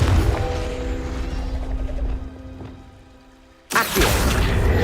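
Bombarda and Confringo spells go off in Hogwarts Legacy: a long rushing, crackling blast fades away, then a sudden loud explosive crash strikes and roars on.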